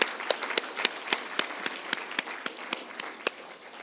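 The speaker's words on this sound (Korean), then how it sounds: "우리 모두 수고하셨다고 힘찬 박수 한번 드리죠." A party members' debate forum audience in Seoul gives applause to the designated debaters, a thin, steady patter of many hands with distinct louder claps rising at intervals, moderately distant and with no talking over it.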